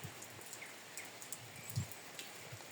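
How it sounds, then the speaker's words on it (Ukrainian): Light rain falls in a vineyard in the countryside, a faint, steady patter with scattered soft drops and quiet background hiss and no voices. "дощик іде."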